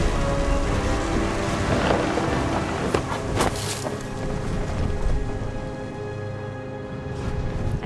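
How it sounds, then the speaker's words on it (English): Heavy rain pours steadily while deep thunder rumbles close and loud in the stormy seaside setting of What Remains of Edith Finch, with a few sharp cracks breaking through the constant downpour. "Thunder sounded much too close and full of angry power"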